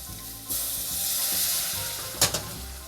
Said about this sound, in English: we're going to grab our broth mixture, and we're going to slowly put in a little bit at a time